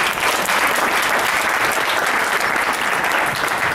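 A large audience at an all-party education forum in Alberta applauds the panel, with dense, steady clapping filling the room from start to finish and no talk over it.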